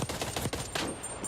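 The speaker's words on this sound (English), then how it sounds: "It's just nice to kind of hear the gunfire of the various guns again" Gunfire from the video game Black Ops Cold War, a quick string of several sharp shots in about a second and a half, fairly faint and mixed, with no talking.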